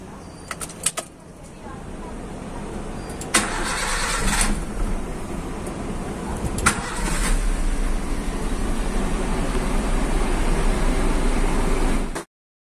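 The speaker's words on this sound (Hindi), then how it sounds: "सबसे पहले तो आप अपनी गाड़ी स्टार्ट करें।" A 1996–2000 Honda Civic with an engine misfire starts up: brief key and starter clicks, then the engine catches and settles into a steady close idle that runs until it cuts off abruptly at the end.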